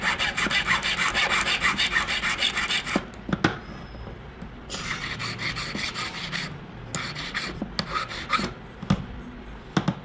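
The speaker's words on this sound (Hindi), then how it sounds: "अब इसको थोड़ा घस लेना है दोस्तों एकदम लेवल में" Metal file rasping across a handmade 22k gold ring to level it, a close, steady run of rhythmic back-and-forth strokes that pause briefly, then resume in shorter bursts.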